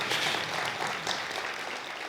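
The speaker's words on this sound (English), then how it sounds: "Big round of applause, please." An audience at a Python programming conference's lightning talks gives a round of applause, with some foot stamping. The clapping is fairly soft and dense, continuing throughout with no voices.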